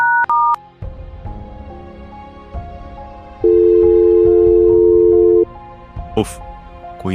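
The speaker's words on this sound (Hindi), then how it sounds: "मुझे पूजा को फोन लगाकर देखना चाहिए।" A phone being dialed, with a quick series of bright keypad tones, a long steady tone in the middle and a few more brief beeps, heard over low background sound.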